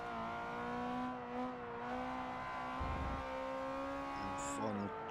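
Ferrari F355 with a mid-mounted V8 driven in a racing video game, a steady sustained engine drone holding high revs with brief shifts and dips in pitch.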